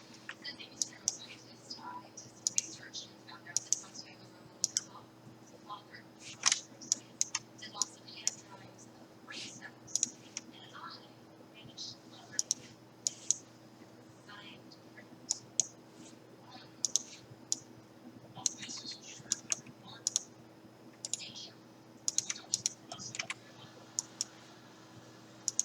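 Light, irregular clicks of keys being tapped on a computer keyboard while a camera is adjusted in software, scattered in quick bursts over a steady low hum, close and quiet.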